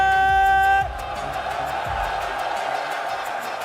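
A live crowd at a Street Fighter 6 Red Bull tournament grand final, heard as a broad, steady roar of cheering after a brief tonal musical sting.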